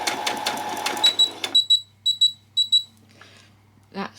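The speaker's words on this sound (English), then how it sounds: "That's my machine telling me do not put a back stitch in" A sewing machine sounds its warning alert against a back stitch: a series of about eight sharp, evenly spaced electronic beeps in pairs, right after the machine's stitching whirr stops, close and clear.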